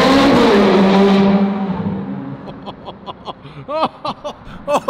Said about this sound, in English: That car sounds so sick.